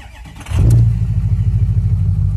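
A 2005 Ford F250 with a 6.0 Powerstroke diesel cranks briefly and fires up at about half a second, settling into a loud, steady, rumbling idle close by, with no talking.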